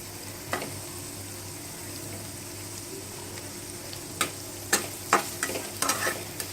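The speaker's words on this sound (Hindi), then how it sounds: "जब ये थोड़ा भुन जाए तब हम इसमें प्याज डालते हैं" Chopped onions frying with ginger in a pan for veg momo filling, a steady low sizzle with several sharp clinks and scrapes of stirring clustered toward the end.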